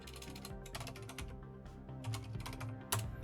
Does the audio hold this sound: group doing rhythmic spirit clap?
no